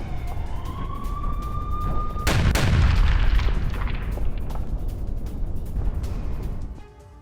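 An Israeli missile strike on Hezbollah positions: a rising whine gives way to a heavy, rumbling blast that swells loudly and slowly fades out.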